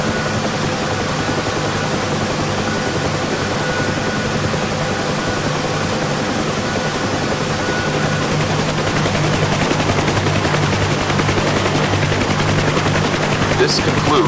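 Steady, loud rotor thump and turbine whine of a UH-1 Huey helicopter lifting off from a low hover into forward flight in the DCS flight simulator, continuous throughout with a faint voice underneath.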